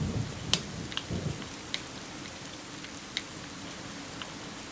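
Rain falling in Zelda: The Wind Waker HD video game, a soft continuous patter with a few sharper drops and low rumbles, steady and fairly faint throughout.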